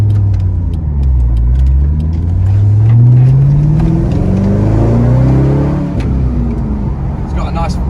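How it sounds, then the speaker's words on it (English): Corvette C5 with a manual gearbox and LS1 V8 revs up and settles, deep engine tones rising and falling close by, with people talking over it. "It's got a nice V8 noise"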